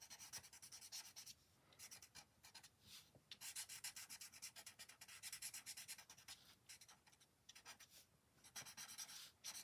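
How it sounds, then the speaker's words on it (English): A tortillion rubs graphite smooth on paper, making faint, soft, papery strokes that come in quick repeated runs with short pauses between them. "We're smoothing out the graphite with our tortillion."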